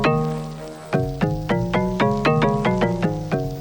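Synth patch built in Pigments on the modal engine: a struck, bell-like tone repeating in an even pulse of about a dozen bright hits, with sustained low notes beneath, clear and alone.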